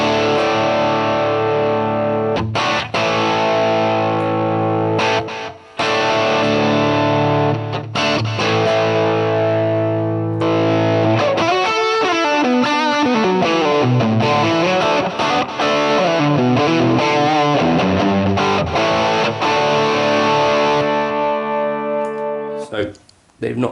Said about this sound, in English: This is one of my favourite amps in the Helix.